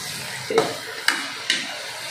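Shrimp go into a hot pan with a soft sizzle, followed by a few distinct scraping clinks of stirring about half a second apart, all fairly quiet.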